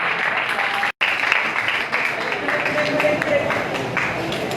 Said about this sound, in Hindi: मास्टर साहब के लिए जोरदार तालियां होनी चाहिए।